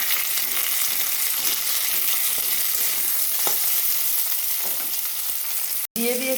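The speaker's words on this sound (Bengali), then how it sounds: "পেঁয়াজ ভাজা হয়ে যেতে দিলাম টমেটো।" Tomatoes fry with browned onions in oil in a pan, making a loud, steady crackling sizzle with occasional stirring clicks that carries on for several seconds before a brief cut.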